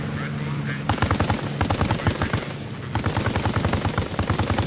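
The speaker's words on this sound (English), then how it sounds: "Shooting at this building, although I don't think anyone's in there." A machine gun fires at a building in a video game: two loud, close bursts of rapid, evenly spaced shots separated by a short pause.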